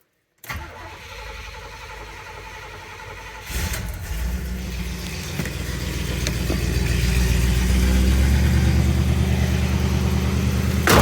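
Cold start of a 1972 Oldsmobile Custom Cruiser with a Rocket 455 V8: the starter whirs, the engine catches with a surge, then a loud, rumbling idle builds and grows steadier, heard up close.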